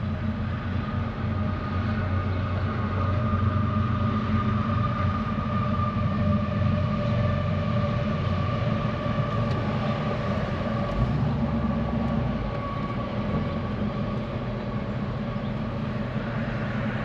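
A 1968 AMC AMX with a 390 engine idles smoothly and steadily, a continuous low rumble with a faint hum and no other sound.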